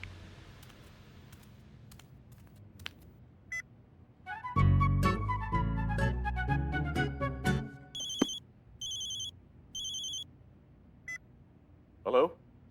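A series of short electronic beeps from a phone being dialed, sounding at intervals after a stretch of background noise and voices.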